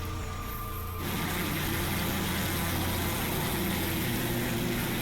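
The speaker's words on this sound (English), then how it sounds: "No way, I never heard an engine make a noise this horrible." A harsh, grinding engine drone in a video game jumps up abruptly after a quieter opening second and then holds loud and continuous.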